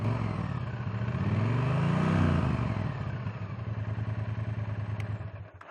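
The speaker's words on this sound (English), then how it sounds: "That is a sweet sound from the pea shooter pipes at the back." A Triumph Bonneville T100 motorcycle with pea shooter exhaust pipes revs up and drops back, a deep throaty rumble rising and falling before settling into a loud, steady pulsing idle close by.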